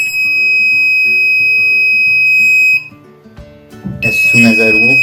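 A loud, steady high-pitched electronic buzzer tone from a DIY access control system sounds continuously, cuts off abruptly, then noisy handling and a voice follow.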